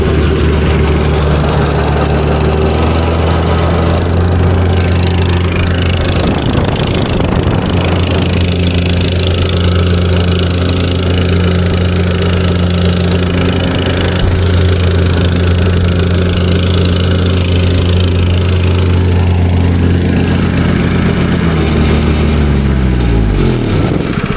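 A small auction-bought engine, just started after being choked, runs loud and close for over twenty seconds, its idle wavering and dipping as the choke is opened, with revs sagging and recovering.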